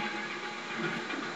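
A tram in the Resident Evil 4 video game gives off a steady, dense rumbling hiss, continuous and fairly loud throughout the short stretch with no voices over it.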